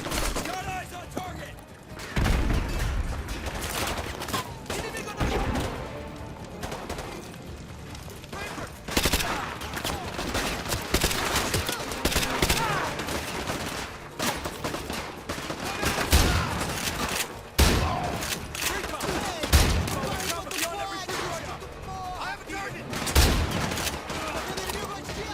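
Lever action shotgun blasts in Call of Duty Modern Warfare 2 Remastered multiplayer-style combat, repeated loud booming shots at irregular intervals over continuous battle noise and scattered gunfire, with voices now and then.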